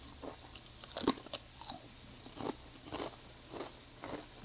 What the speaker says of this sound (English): If you don't like to hear people chewing, you might want to mute this.